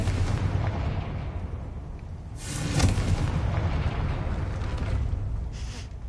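Confringo explosion spell cast in a Hogwarts video game, a deep booming blast that swells in the middle over a continuous low rumble, loud and close.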